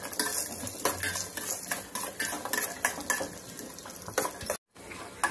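Chana dal and cashews fry in hot oil for a curd rice tempering, with a continuous sizzle under busy, close scraping and clinking of a spoon stirring the pan, no voices and a brief dropout near the end.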